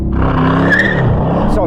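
A Corvette launching hard from a standstill, loud engine roar rising in pitch with a brief tyre squeal, close, with a voice briefly over it.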